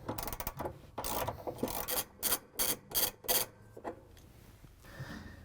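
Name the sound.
ratchet breaking free pulley nut on GE washing machine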